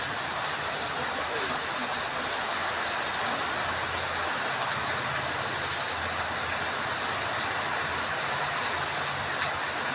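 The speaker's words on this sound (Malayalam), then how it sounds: "നല്ല മഴയാണ് ഗൈസ്" Heavy rain pours down steadily as a broad, constant wash of noise, with a low rumble underneath, continuing unbroken throughout.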